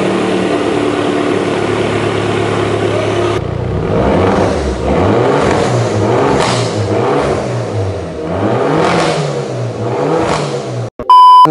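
A modified Mini Cooper S with an upgraded full exhaust idles steadily, then fires up and revs in repeated loud surges, ending with a brief beep.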